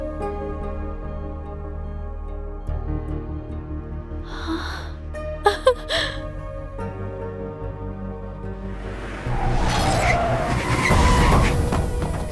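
A car races up with tyres skidding on the road, a loud screech building in the last few seconds after quieter engine rumble and brief sharp sounds.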